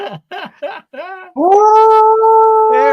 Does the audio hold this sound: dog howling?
yes